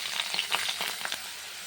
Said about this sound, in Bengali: আলু বলি উচ্ছেটা ভাজা হয়ে যাচ্ছে, আলুটা দিয়ে দিলাম, পেঁয়াজ দিয়ে দিলাম, টমেটো দিয়ে দিলাম,